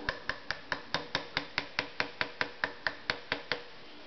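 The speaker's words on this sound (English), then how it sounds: "Snug up the castle nut." Rhythmic metallic clicks as a castle nut is tightened on a JR Carbine during reassembly, about fifteen evenly spaced, sharp ticks close by with no talk.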